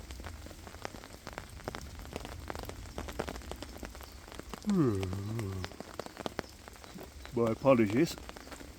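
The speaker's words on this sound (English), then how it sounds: "Well, it forecast a chance of rain. I didn't expect this." Rain patters steadily on a hammock camp tarp, dense close taps and drips throughout, with a man's brief spoken words breaking in twice.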